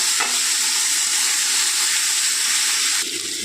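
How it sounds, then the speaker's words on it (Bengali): Sliced onions frying in hot oil in a pan, a steady close sizzle throughout with faint stirring, no talk. "এটাকে ভালো করে নাড়াচাড়া করে নেবো, একটু লাল লাল করে ব্রাউন করে ভেজে নেবো"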